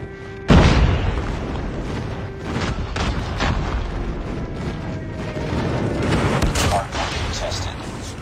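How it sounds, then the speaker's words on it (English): Enemy airstrike explosions in Call of Duty Mobile: a loud boom lands early, followed by continuous rumbling blasts and gunfire-like bursts that stay dense and heavy throughout, with game announcer voice lines mixed in. "Enemy airstrike incoming."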